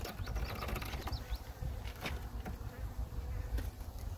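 Honey bees buzz steadily inside an opened beehive during a hive inspection, a dense, continuous hum close to the microphone with faint clicks of handling and no voices.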